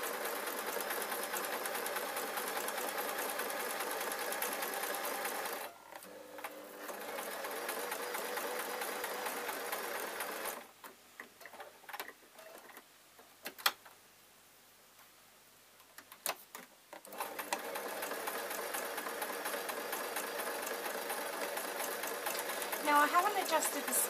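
A sewing machine stitches fabric pieces with their right sides together for a soft toy unicorn, a fast steady whirring run broken by two quiet pauses with a voice speaking, then resuming loud and continuous.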